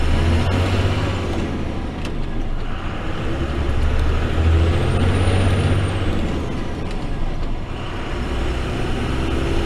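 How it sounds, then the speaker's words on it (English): A truck's air brakes hiss and release while the truck is test driven, with loud, steady road and engine noise throughout and a brief high sighing note partway through. "It's definitely different getting used to air brakes than it is hydraulic brakes"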